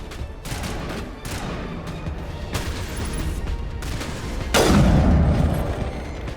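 Rapid bursts of gunfire in Mass Effect Legendary Edition crackle through a tense firefight, capped by a heavy boom near the end, with almost no talking.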